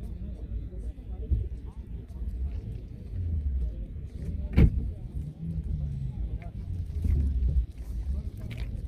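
Low, steady rumble of a running car engine idling close by, likely an Opel Astra offered for sale, with occasional bumps and a brief sharp knock, heard under someone talking.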